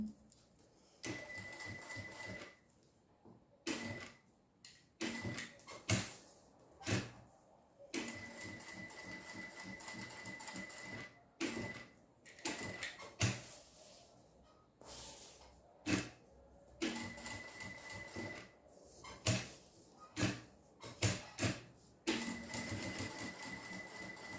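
A sewing machine runs in slow bursts while stitching a label onto a synthetic-fabric toiletry bag, each short run of rapid needle clatter separated by brief pauses, close and fairly quiet.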